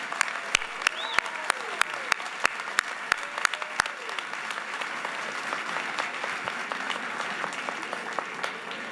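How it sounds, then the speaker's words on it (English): Applause for a graduating class at a school awards day, with a few sharp isolated claps standing out early over a softer spread of crowd clapping and murmuring voices. "How about one more round of applause for this extraordinary class?"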